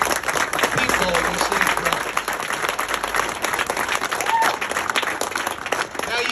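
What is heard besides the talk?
audience applause at ceremony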